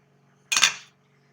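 A lid is set onto a pot of aloo matar gosht on the stove, giving a single short metallic clink and rattle that fades within half a second, heard close up against near silence.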